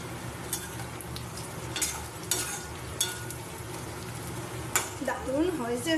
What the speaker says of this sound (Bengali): পেঁয়াজ আলু রসুন সব ভাজা ভাজা হয়ে গেছে। আমি এবারে এর মধ্যে মশলাটা দিয়ে আবার ভালো করে কষিয়ে নেব।